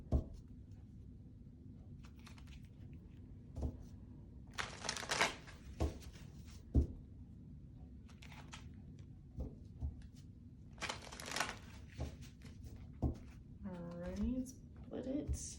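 Soft riffling and flicking of tarot cards being shuffled up close, with scattered taps and shuffles and a voice talking briefly near the end.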